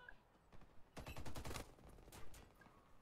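Rapid automatic fire from a Groza rifle in the shooter game Warface: a dense burst of sharp, loud shots in a fast steady rhythm for about a second, then scattered trailing shots and game effects with no talk.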